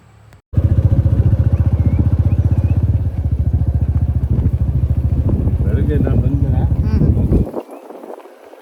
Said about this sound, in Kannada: ಇವತ್ತಿನ ದಿನ ನಾವು ಬೈಕ್ನ ವಾಪಸ್ ಎತ್ಕೊಂಡು ಊರಿಗೆ ಹೋಗ್ತಾ ಇದ್ದೀವಿ